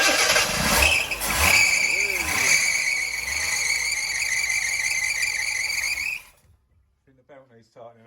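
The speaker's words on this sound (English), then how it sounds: "see if we get any joy with this engine" A Ford Mk1 Granada 3.0 V6 Ghia engine cranks and catches, revving loudly with a whining squeal for several seconds, then cuts off; a voice speaks briefly afterward.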